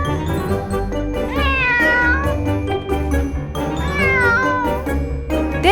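A kitten meows in a toy rescue story, two drawn-out rising cries standing out loud and near over steady background music.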